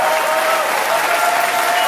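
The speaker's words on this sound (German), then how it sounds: "Ein großer Applaus vielleicht als erstmal für die beiden Kämpfer" Crowd applause for two boxers after an eight-round super middleweight fight in Hamburg, steady dense clapping throughout.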